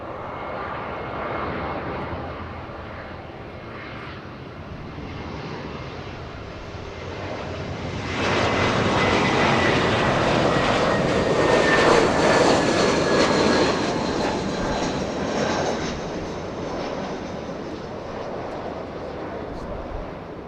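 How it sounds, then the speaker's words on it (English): An Airbus A320 arriving from the north at Los Angeles International Airport, its engine roar building steadily and peaking loudly as it passes overhead before easing off, with faint voices in the background. "Looks like an A320. A320 making a north arrival."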